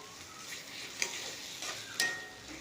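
Fried potatoes are turned through spice masala in a pan for Bengali alur dum, giving a soft continuous sizzle with a few distinct spoon scrapes at an even pace, fairly quiet throughout.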